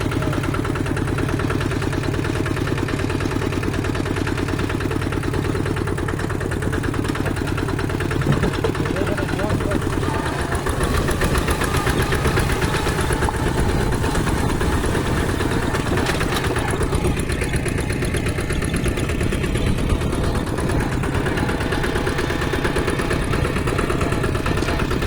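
Tractor engine running steadily while riding through a field, a loud, continuous close-up chugging drone that holds throughout with slight shifts in pitch, and voices talking over it.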